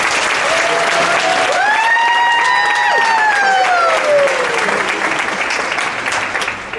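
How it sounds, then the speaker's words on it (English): Steady, loud audience applause fills a high school band concert hall as the principal stands to be recognized, with a voice calling out over the clapping before it tapers near the end. "Give him a round of applause."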